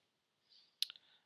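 A few quiet keystrokes on a computer keyboard while a basic JavaScript command is typed, a soft patter followed by a sharper cluster of clicks near the end, with no talking.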